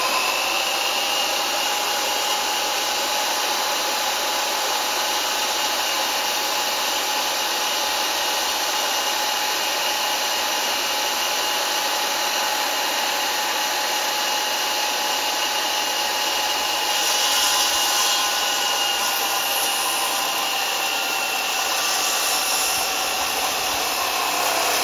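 A specialised machine saw notching wooden roof rafters runs with a loud, steady, high-pitched whine and a dense rushing roar, unbroken and close throughout.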